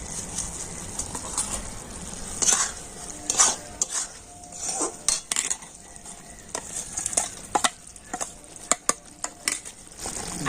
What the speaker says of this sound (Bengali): আর এবার আমি এটাকে দিয়ে দেব চিনি শিরার মধ্যে